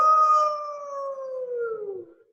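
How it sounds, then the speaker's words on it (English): A wolf cub sound effect in a Christmas puppet play, one long, clear howl that slowly slides downward in pitch and fades out, heard alone. "That's no wind. It's a wolf cub."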